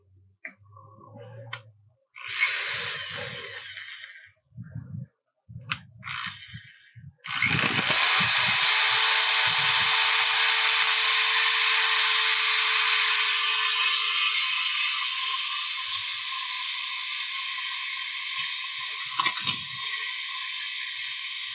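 A turned natural-edge wooden bowl is sanded with 280-grit sandpaper: after a few short scraping bursts, a long, steady, loud abrasive hiss runs for about fifteen seconds before easing slightly.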